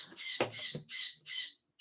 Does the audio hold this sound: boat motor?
no